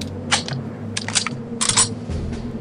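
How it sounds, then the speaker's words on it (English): A snooper rifle reload from the game Return to Castle Wolfenstein, modded version: a quick series of sharp mechanical clicks and metallic clacks in a few short bursts, close and crisp. "an improved version of the original reload sound for the snooper rifle"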